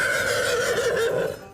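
A horse whinnies in a long, loud, wavering neigh close by, leading a New Year parade down a snowy village main street, then trails off near the end with no talk.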